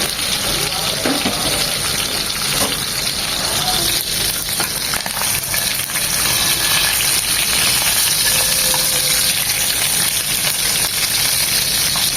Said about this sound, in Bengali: ওই এরকম দু মিনিট ভেজে নেবো এখন কড়া করে ভাজবো না